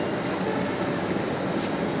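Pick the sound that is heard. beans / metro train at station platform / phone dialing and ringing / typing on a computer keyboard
metro train at station platform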